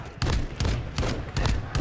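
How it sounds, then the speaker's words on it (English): Gunfire and wall-bang shots in a competitive Call of Duty match, four or five sharp bursts spaced roughly every third of a second over dense background noise, with no voices. "I think shots and the wall bangs are coming through"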